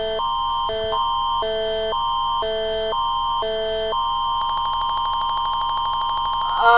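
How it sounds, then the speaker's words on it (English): A synthetic EAS emergency alert blares in a repeating two-tone pattern of alternating steady beeps, then shifts into a sustained buzzing warbled tone, loud and continuous. "oh my goodness, an EAS alarm."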